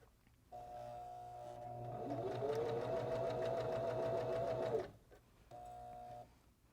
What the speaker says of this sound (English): And we're just going to sew all the way around